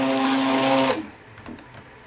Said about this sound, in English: Yeah, this is thickening up, so I don't want to do too much blending.